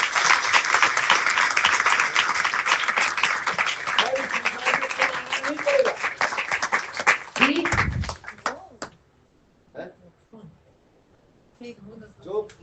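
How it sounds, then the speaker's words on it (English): An audience at a spiritual Harikatha gathering in São Paulo claps loudly in a dense burst that thins into scattered claps, with voices talking and calling out as the applause fades away. "So everybody clap very loudly."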